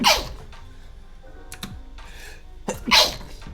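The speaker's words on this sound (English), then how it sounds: "I have to sneeze again." Two sharp, close sneezes, one at the start and one near the end, with light computer keyboard typing and clicks in between.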